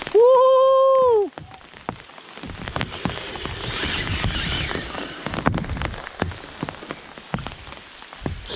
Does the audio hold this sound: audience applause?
no